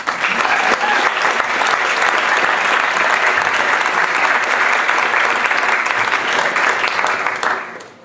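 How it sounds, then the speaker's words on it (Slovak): Concert audience at a youth choir performance giving a soloist sustained, loud, dense applause that holds steady before tapering off at the end. "Potlesk."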